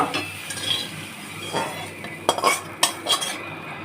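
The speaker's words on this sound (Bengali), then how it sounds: "বেগুনগুলো এবার নাড়াচ্ছি আমি" A utensil scrapes and clinks against a pan while fried eggplant (brinjal) is stirred, a run of sharp metallic knocks over a low sizzle, loudest in quick taps near the end, with no talking.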